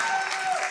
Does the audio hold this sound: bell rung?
no